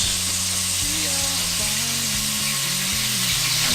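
Drained capers tossed into a hot pan of venison to deglaze it, setting off a loud, steady sizzle that fills the space, with a low hum and faint background noise underneath.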